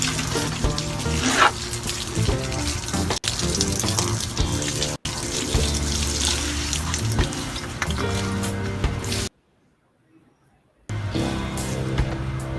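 Water is poured out over garden plants such as peppers and tomatoes, a loud splashing gush that runs for several seconds, breaks off briefly, then resumes.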